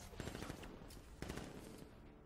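Enemy gunfire in the video game Batman Arkham Knight: rapid bursts of automatic shots rattling in two main volleys amid game noise, fairly close and dense.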